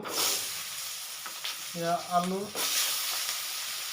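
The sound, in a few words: stirring potatoes frying in a pan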